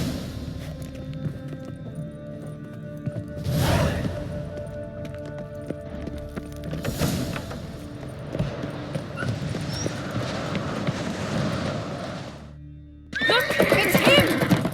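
Horses in The Witcher 3 give loud whinnies in bursts amid game music and ambience, with hoofbeats and movement between the neighs and no talk over them.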